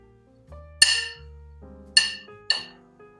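A spoon clinks sharply against a bowl while spices are mixed with lemon juice, salt, black pepper and cumin powder: three bright, distinct taps spaced over a few seconds, close and fairly quiet, with soft background hum between them.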